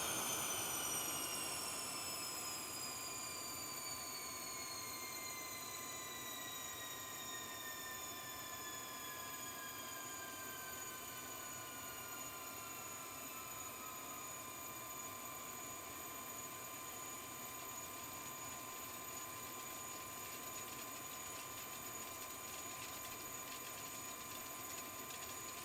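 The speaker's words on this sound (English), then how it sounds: "And yeah, you can hear the blades rattling around." Bombardier Challenger 650 jet engine in a flight simulator, heard from outside as it spools down: descending whining tones slide steadily lower over a loud, constant turbine roar while loose blades rattle faintly, with no talking.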